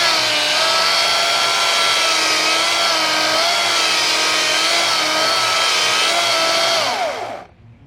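Greenworks Optimus OCS800 28-inch battery chainsaw with a half chisel chain cutting wood, a loud, steady, close whine held for about seven seconds before the motor winds down and cuts off.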